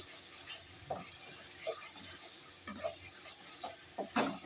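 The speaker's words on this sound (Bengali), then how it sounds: "মশলাটা একটু খুব ভালোভাবে কষতে হবে" Spice paste for a pomfret fish jhal being stir-fried in a pan, with repeated spatula scrapes and stirring strokes over a soft, steady sizzle, close and fairly quiet, no voices.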